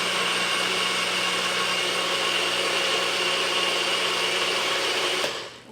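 A hand-held electric mixer whirs steadily through chocolate chip banana bread batter for several seconds, a loud, even motor drone that cuts off abruptly at the end.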